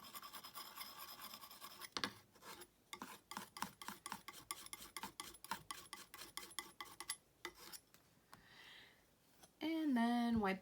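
A palette knife mixes green paint into white on a palette with quick rhythmic scraping strokes, close and fairly quiet, followed by a few slower rasps and then a brief burst of voice at the end.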